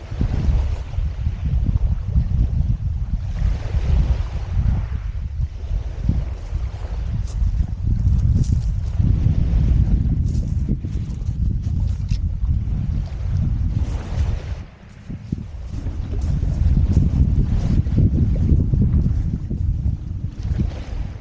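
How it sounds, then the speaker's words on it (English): Strong wind buffets the microphone on a beach during sea fishing, a loud continuous low rumble with gusty surges and a short lull before picking up again. "There's a little bit of wind, but it's directly from behind"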